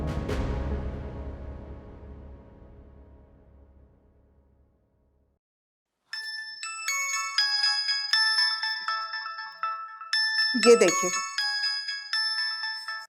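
A mobile phone plays a melodic ringtone for an incoming call, its bright tones repeating in a steady pattern after a fading chime; a brief spoken voice breaks in partway through.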